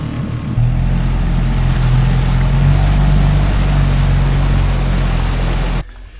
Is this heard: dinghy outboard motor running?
yes